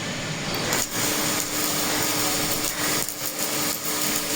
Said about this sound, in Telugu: ఇక్కడ మా ఫ్రెండ్ వెల్డింగ్ చేస్తున్నాడు